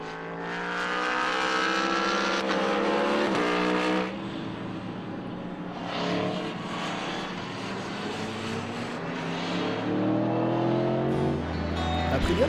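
Several Aprilia motorcycles on a motocross track, their engines revving and rising in pitch as they accelerate, with waves of overlapping exhaust noise passing at mid distance.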